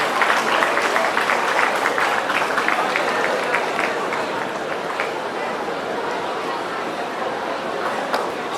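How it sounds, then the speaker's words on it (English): A large crowd at an inter-college youth festival fashion show applauds judge Manmeet Singh Albela, the clapping loud and dense at first and then thinning slightly, with crowd chatter mixed underneath. "Can we have a huge round of applause for Mr. Manmeet Singh Albela"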